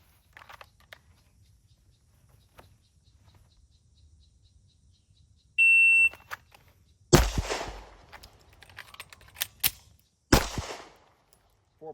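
A timer beep sounds, then pistol shots ring out at close range during a timed draw drill from appendix carry: a pair of sharp cracks, then single shots, then a final pair, each followed by a short echo.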